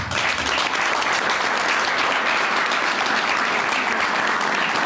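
Sustained, dense audience applause fills the room at a tenth-anniversary celebration of a social organization, loud and even throughout with no speech over it.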